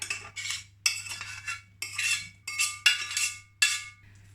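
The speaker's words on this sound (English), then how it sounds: "So just gonna fold them in, mix throughout the batter." Sautéed apple pieces are folded into a vegan okara apple-and-raisin cake batter, heard as a rhythmic series of close, bright scrapes of a utensil against a bowl, about eight strokes with a low hum beneath and no talking.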